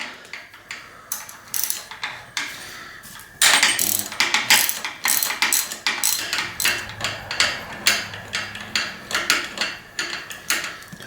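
Ratchet wrench with a 6 mm hex socket loosening a seized bolt on a Suntour fork of a Trek MT220 bike, clicking in steady bursts of close, crisp ratcheting pawl ticks with brief pauses between strokes.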